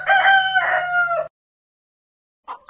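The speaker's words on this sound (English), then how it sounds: "Chicken." A rooster crows one loud, close cock-a-doodle-doo lasting just over a second, followed by silence and then the start of a second call.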